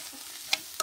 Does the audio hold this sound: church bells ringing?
no